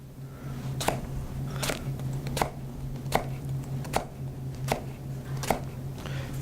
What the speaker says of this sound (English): We just want to cut them about 1/4 inch.